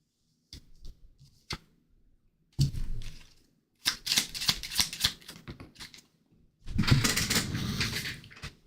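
Tarot cards are shuffled by hand in crisp bursts of riffling and sliding, some short taps at first, then longer rustling runs, close and fairly loud, with no talking.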